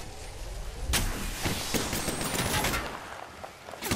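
Gunfire in the Apex Legends battle royale game during Season 6 crossplay on PS4, with several sharp shots and short bursts cracking through a dense, noisy mix of game sound.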